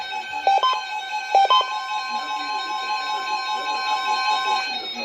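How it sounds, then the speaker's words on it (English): A NOAA Weather Radio warning alarm attention signal sounds as a steady, loud electronic tone held for several seconds, with a couple of brief chirping bursts near the start. "This is a test of Noaa Weather Radio's warning alarm systems. The attention signals you just heard"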